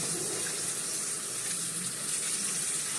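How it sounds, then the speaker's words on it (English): Steady rush of water from a tap running continuously, close by, with a faint splashy texture as hands are washed; no voices. "So let me wash my hands so I can get started."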